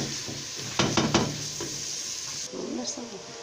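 Kofta, liver and sausage hit a hot pan with a bright, steady sizzle and a few clattering scrapes and knocks, close up and continuous throughout.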